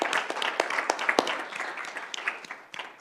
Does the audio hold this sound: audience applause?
yes